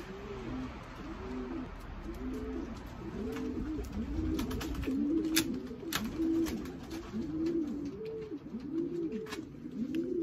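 Racing pigeons arriving home from a 115 km race coo steadily in a repeated rhythmic pattern, close and moderately loud, with faint wing flutters and light background noise.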